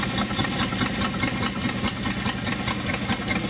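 York compound steam engine running on compressed air with the throttle barely open, a steady rhythmic chuffing and mechanical knocking at close range, continuous and fairly loud, no voices.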